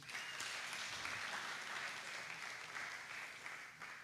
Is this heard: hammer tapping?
no